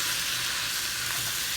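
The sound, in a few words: Bolognese meat sauteing in a pot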